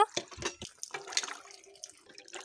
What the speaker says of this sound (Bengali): জলপাইগুলো জল দিয়ে ভালো করে ধুয়ে নেব।